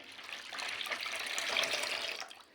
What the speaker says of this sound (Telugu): కొంచెం ఇంకా వాటర్ యాడ్ చేసుకుందామండి